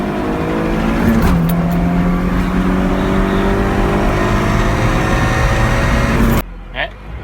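A Honda Civic EG with a B18B1 engine pulls hard, its engine droning loudly and climbing steadily in pitch from inside the cabin for about six seconds before cutting abruptly, with a voice over the end.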